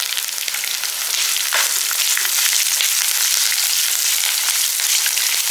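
Raw tamarind, grated coconut, shallots and curry leaves sautéing together in a pan, giving a steady, loud, continuous sizzle with faint stirring scrapes throughout and no talking.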